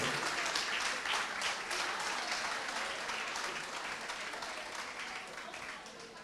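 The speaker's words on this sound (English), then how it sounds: "go on, give him one big cheer" Sustained applause with scattered cheering from an audience at a Camán Caint 2022 Team of the Year awards night, greeting the junior team of the year; dense, steady clapping that fades gradually over six seconds.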